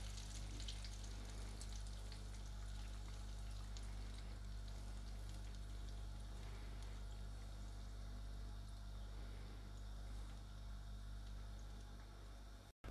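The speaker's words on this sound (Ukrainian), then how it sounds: "Нагрілася олія, і ми заливаємо її" Hot oil pours over hot peppers for a feta marinade, a steady faint hiss and sizzle running continuously without break until an abrupt stop.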